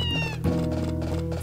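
A cat in the video game Harvest Moon: A Wonderful Life meows once, then again in a drawn-out, wavering call, close by with no talking.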